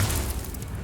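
A Confringo spell in Hogwarts Legacy goes off as a short, muffled low boom during a fight, with a single burst that trails off within a second.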